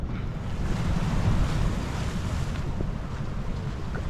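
Sea waves roll at a river mouth where the river meets the sea near Pondicherry, a steady loud rush of surf mixed with strong wind buffeting the microphone and no pauses.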